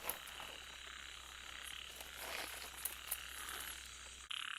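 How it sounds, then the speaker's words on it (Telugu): A dense chorus of frogs croaks steadily at night beside a check dam at a solo campsite, a continuous layered rasping with a few louder nearby calls, ending abruptly. "దీన్ని కప్పల అరుపులు ఒకసారి వినండి"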